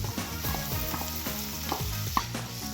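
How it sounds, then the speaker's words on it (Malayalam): Ginger garlic paste stirred and sautéed in a pan while making creamy chicken, giving a steady, close sizzle and frying hiss with light scraping and stirring throughout and no one talking. "അതും കൂടി ചേർത്ത് നന്നായിട്ട് വഴറ്റുക."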